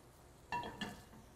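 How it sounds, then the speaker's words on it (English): A rubber spatula scraping the bottom of a pan to deglaze it during cooking: two quick, quiet scrapes with a light sizzle, close by and otherwise hushed. "You want to take a rubber spatula and then just kind of deglaze that pan."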